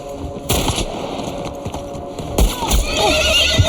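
A horse neighs and whinnies loudly amid clip-clop hooves and gunfire in The Last of Us, a snowy action scene, with shouted voices over the chaotic noise.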